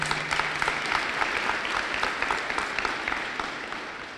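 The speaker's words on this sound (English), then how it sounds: "So if we could give him a round of applause" A school district audience gives dense, sustained applause at a state-of-the-district address, a thick wash of many hands clapping that holds steady and then thins slightly toward the end.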